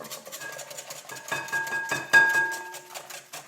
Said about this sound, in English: Then slowly start adding in your milk as you keep whisking.